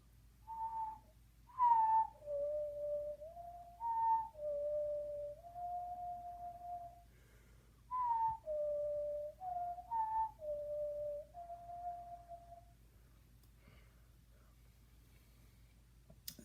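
A person whistles the Song of Time from Zelda Ocarina of Time: a slow sequence of clear, sustained pure notes rising and falling, with brief pauses between phrases, close and alone.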